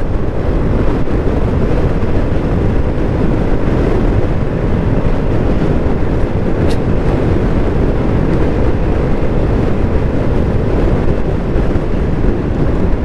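A motorcycle carrying a couple rides on a rough, bumpy road in Amadeo, Cavite, topping out around 80 kph. Loud, constant engine rumble and buffeting wind fill the whole stretch without a break.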